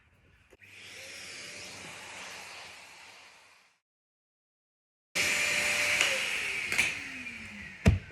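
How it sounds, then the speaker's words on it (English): A vacuum cleaner cleans up fine glass shards, running for two stretches with a steady whoosh and a short silence between, while the second stretch sounds louder with a few sharp rattles. "So I'm going to vacuum."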